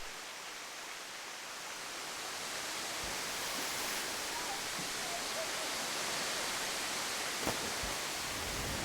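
Havasupai waterfalls in the Grand Canyon pour water in a steady broadband rush that swells slightly as it goes on, continuous and fairly distant.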